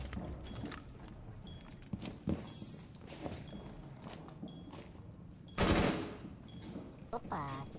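Gunfire in the shooter game Rainbow Six Siege, scattered shots and short bursts mixed with footsteps and mechanical clicks, moderately loud, with a voice talking excitedly over the action.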